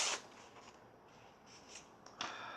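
A knife with a partly serrated blade, sharpened on a Lansky controlled-angle sharpener, slices through a sheet of paper in a few quiet, quick rasping swipes close by in a hushed room.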